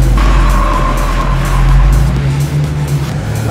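A Subaru WRX S4 drives hard with a deep, smooth exhaust note from an STI Performance Muffler, loud and near, engine tone steady then dropping slightly.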